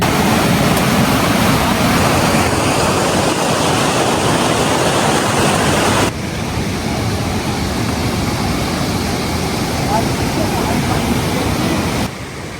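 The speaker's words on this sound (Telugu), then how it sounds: "ఇప్పుడైతే మనం వాటర్ ఫాల్స్ దగ్గరలో ఉన్నాం" A waterfall roars continuously, a dense broadband rush that drops slightly in level midway and again at the very end.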